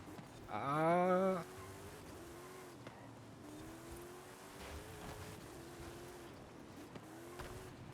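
Toyota Supra racing through aggressive corners in Forza Horizon 5, with a brief loud engine rev or squeal burst early on, then a steady lower engine drone that rises and falls.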